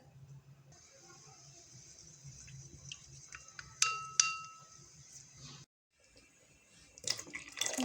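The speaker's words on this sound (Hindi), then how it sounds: "अब इसमें आप थोड़ा सा पानी ऐड करेंगे, इसको पानी में हल कर लें।" Water poured into a tablespoon of cornflour for homemade tomato ketchup: a faint, close trickle with a couple of sharp clinks against the bowl, then brief quiet before more splashing and stirring.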